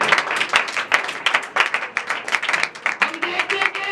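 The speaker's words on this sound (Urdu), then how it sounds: "زوردار تالیاں" A church congregation applauds loudly for Jesus during a worship service: dense, energetic clapping fills the room continuously, with a few voices rising faintly underneath.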